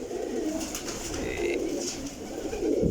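A large flock of pigeons in a loft, some three hundred birds, coos in overlapping, continuous low murmurs close by, with soft flutters and scuffles mixed in.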